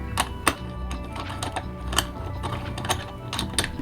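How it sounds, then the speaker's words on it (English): Small metallic clicks and ratcheting taps from an Allen wrench screwing a SmallRig top handle onto a camera cage, irregular and close, over a low steady hum, with no talking. "I'm just going to screw this in with my Allen wrench."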